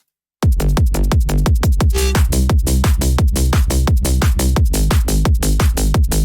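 Driving drum and bass loop in a dancefloor style, with steady punchy kicks and an extra kick slipped in before the drop, loud and continuous with no talk.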